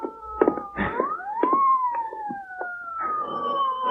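A police car siren in a radio drama, a rising then steady wailing tone cutting in over brief bursts of muffled noise, loud and close for a few seconds.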